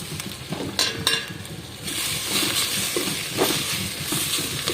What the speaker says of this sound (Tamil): அவுத்திக்கீரை போட்டு நல்லா வதக்கிக்கணும்.